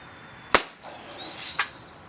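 A single sharp crack from a BB rifle, either a Daisy Red Ryder or a Crosman Marlin Cowboy, fired at a chronograph, followed by faint rustling and a smaller click.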